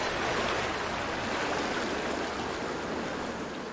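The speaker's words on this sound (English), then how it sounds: "Carolyn Morrison has loved listening to the sound of water from the creek next to her home for more than 30 years" A creek beside a home in Soddy-Daisy flows steadily, a soft continuous broadband rush of running water with no voices over it.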